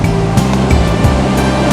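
Heavy, high water pours through a waterfall, a loud steady roar of rushing water that fills the whole clip without a break.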